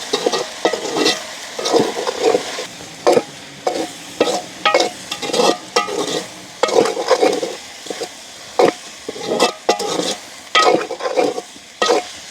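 Pieces of dried chili and spices are stirred into food frying in a pan during outdoor village cooking in a garden, with rhythmic scraping strokes every second or so over a soft, steady sizzle.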